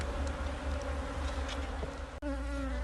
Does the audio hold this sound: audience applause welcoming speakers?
no